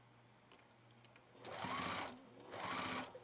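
A sewing machine stitching fabric for a set top, running in two close, smooth bursts of rapid needle whirring, each lasting about a second, after a few light taps.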